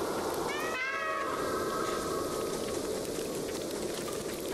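A cat in the video game Stray gives a clear, rising meow over a steady patter of rain, one distinct call near the start followed by fainter mewing.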